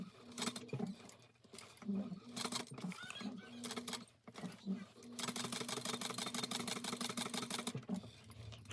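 A sewing machine stitches backpack fabric in short bursts, its rapid mechanical whirring stopping and starting, then running longer toward the end, with a voice talking quietly in between.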